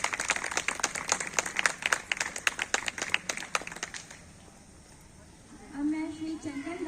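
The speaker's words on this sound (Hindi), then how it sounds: "जोरदार तालियों के साथ दीदी का सम्मान करेंगे।" A crowd at a yoga gathering applauds to honour a woman guest with a few seconds of lively, steady clapping that fades out, followed by a short stretch of speech.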